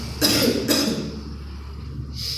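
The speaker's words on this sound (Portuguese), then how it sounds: "desculpem a tosse, irmãos, estou um pouco resfriado" Two harsh, close coughs in quick succession, followed by a quieter pause and the start of a third.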